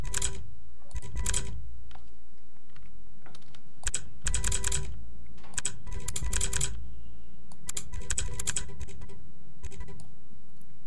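Bursts of rapid keyboard-style clicks play as a typing effect over animated text, arriving in several clustered runs separated by brief pauses, with a low background hum underneath.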